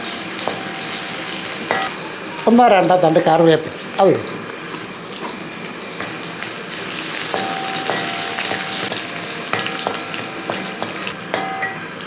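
Shallots and two dried red chillies sizzle and crackle in hot oil as they are stirred in a pan for a Kerala tomato curry, with loud bursts of spattering and scraping under a voice.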